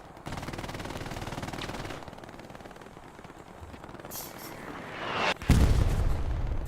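A bombing run in a video game skirmish: a sustained rattle of rapid gunfire gives way to heavy, booming explosions, loud and close, with dense battle noise throughout.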